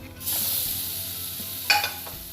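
Tomato dropped into a hot pan for Kerala-style crab kuruma, a steady close sizzle rising as it lands, with a brief stirring clatter partway through, no talk.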